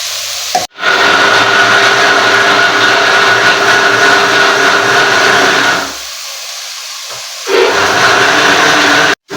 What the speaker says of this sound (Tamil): அதுக்கப்புறம் நம்ம இந்த தக்காளி கட் பண்ணி வச்சுருக்கோம் இல்லையா, அதை மிக்சியில் போட்டு நல்லா அடிச்சுடுவோம்.